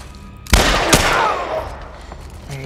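Loud gunshot burst in The Last Of Us, a sharp blast followed by a second crack and a long echoing rumble that fades over about two seconds.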